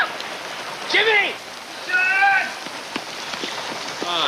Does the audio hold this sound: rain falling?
yes